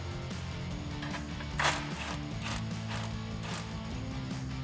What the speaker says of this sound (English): Also taking that 15mm socket, undo the clamp right before your muffler.